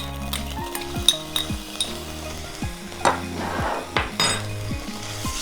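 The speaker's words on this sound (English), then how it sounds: "Just gonna stir it around." Red curry paste and minced ginger stirred in a pan with a little olive oil, giving a steady sizzle with repeated scraping strokes and a few clinks of a utensil against the pan, close by.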